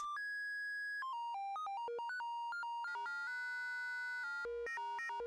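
A sine wave patched into the linear and exponential FM inputs of an EarthQuaker Devices Wave Transformer module yields a stepped run of clean electronic tones, pitches jumping every fraction of a second, then thickening into buzzy, harmonically rich drones near the end, with no talk.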